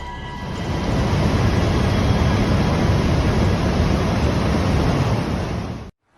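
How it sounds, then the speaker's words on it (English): Relentless white ocean waves crash in a loud, continuous roar of surf mixed with wind buffeting the microphone, close and unbroken for several seconds before cutting off abruptly. "The relentless white waves crash"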